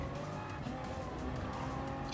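Race cars in Gran Turismo Sport, Gr.3 class, in a close pack: steady loud engine roar with tire squeal and skidding throughout, no talk.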